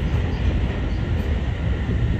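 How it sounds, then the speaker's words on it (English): A Keihin-Tohoku line commuter train runs between Kawasaki and Tsurumi, a steady loud rumble of wheels and carriage noise heard from inside the car, with no talk. "This is the 京浜東北 line train for 磯子。"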